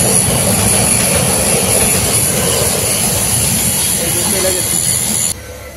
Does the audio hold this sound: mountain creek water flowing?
no